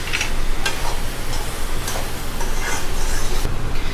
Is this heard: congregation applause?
no